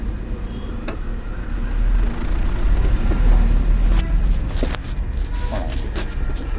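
Learner driver's car pulling away as the clutch is released during a driving lesson, a steady low engine rumble that swells and then holds, heard from inside the car with faint clicks.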